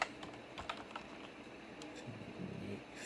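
Quick clatter of keys on a computer keyboard while entering text into an Excel spreadsheet, a close, quiet burst of uneven taps.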